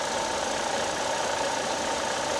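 A 1.4-liter turbocharged car engine idles steadily after a cold start, a constant broadband hum with a faint low knock, heard close and alone for a couple of seconds.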